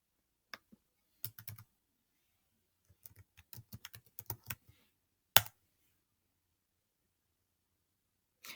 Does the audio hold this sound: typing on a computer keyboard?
yes